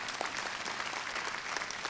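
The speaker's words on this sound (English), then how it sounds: "Well, clap it up." A panel audience at a gun-rights event breaks into dense, continuous applause, many hands clapping together at an even level for the whole stretch.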